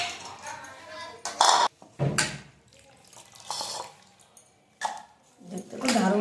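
Sour roselle fruits are rinsed clean in a bowl of water. Close splashes, swishes and drips come in uneven bursts, mixed with the clatter of handling.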